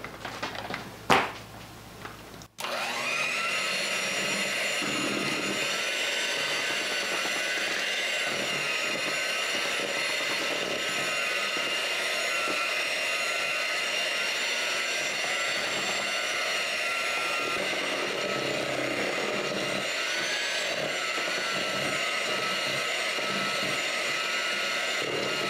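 An electric mixer whirs steadily and loudly for about twenty seconds, beating the ingredients for a Jello poke cake after a brief scrape or clink at the start.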